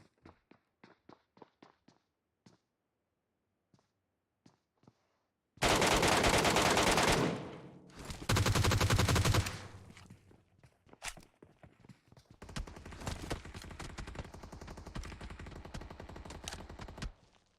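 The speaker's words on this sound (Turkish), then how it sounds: "Niye duvara sıkıyor?" Gunfire in PUBG: sparse single shots at first, then two loud, dense bursts of automatic fire and a long stretch of sustained rapid shooting, close and harsh, with no talk.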